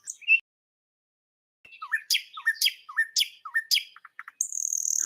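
Birds chirp in a short series of rising, whistled calls, close and clear, after a brief silence, followed by a bright sustained trill at the end.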